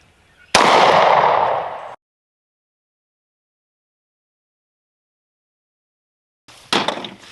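Federal HST 180 grain rounds fired from a pistol as a double tap: a loud, sharp report with a long decaying tail, followed after a quiet gap by another short burst near the end.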